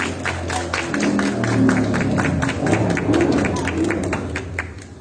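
Applause from an audience at a certificate presentation during a children's literature event at a book and arts fair in Tijuana, rapid overlapping claps over a murmur of voices, lasting several seconds before fading.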